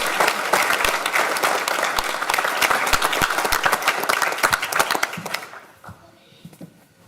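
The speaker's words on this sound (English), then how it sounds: "I think they deserve one more round of applause for the 5A state championship titles of South Brunswick" A room at an evening school board meeting gives a sustained, dense round of applause for South Brunswick High School's 5A state champions, loud and even for about five seconds before fading away.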